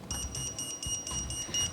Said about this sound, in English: The person who presses the buzzer must be the one to answer.